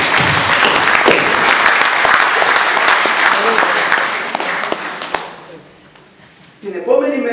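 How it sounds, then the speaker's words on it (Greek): Applause from an audience at a Greek community honorary event in Nea Smyrni, loud and sustained with dense clapping for about five seconds before fading out, followed by a brief voice at the end. "Χειροκροτήστε και εσείς, δεν πειράζει."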